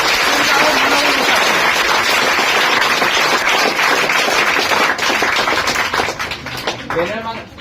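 An audience gives Sonu a loud, sustained round of applause that fills the room, thinning out near the end as a voice comes through.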